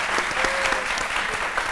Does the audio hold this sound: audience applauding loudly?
yes